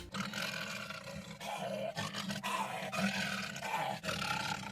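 A human voice actor imitates lion roars for The Lion King, producing deep, sustained growling roars that swell and fade several times, loud and close with no talk.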